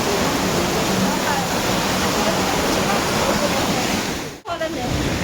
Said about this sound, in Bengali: আর এইদিকে ঝর্ণা।